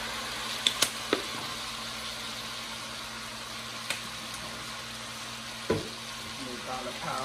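Chorizo and potato hash with garlic frying in a pan, a steady soft sizzle with a few sharp clinks of a utensil against the pan.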